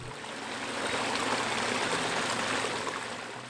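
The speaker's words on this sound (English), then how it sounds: "I personally will take the sound of a blade waterfall, like this, over a babbling brook any day." A blade waterfall spills into a garden pond, making a steady, full rushing splash that holds at an even level throughout with no voices over it.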